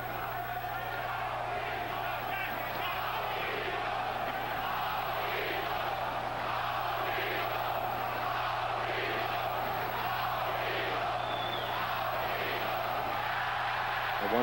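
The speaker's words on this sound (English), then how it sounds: "Crowd very noisy on occasion here." A noisy boxing crowd roars steadily throughout a bout, a far, continuous wash of shouting and cheering with a constant electrical hum underneath.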